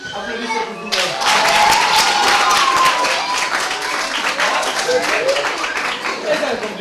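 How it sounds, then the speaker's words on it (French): Classroom applause at a school in Noumadian, as pupils clap together in a burst that starts abruptly and continues at fairly close range, with some voices talking over it. "Applaudissez pour vous"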